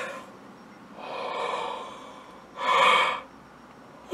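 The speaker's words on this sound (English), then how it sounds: "I just can't stop yawning" A person yawns twice, a long breathy yawn followed by a shorter, louder one, close up in a quiet indoor space with no talking.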